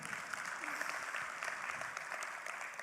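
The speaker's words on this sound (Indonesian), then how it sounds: "Sekali lagi tepuk tangan buat Riwe Internasional." An audience at an Indonesian business leadership training event applauds steadily, a dense, even clapping from a crowd that continues throughout at moderate loudness.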